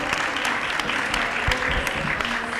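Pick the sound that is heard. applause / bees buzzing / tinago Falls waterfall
applause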